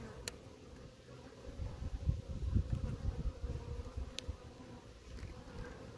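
Honey bees from a caught swarm buzz around an open hive, a low fluttering drone that rises and falls close to the microphone, with a couple of faint clicks.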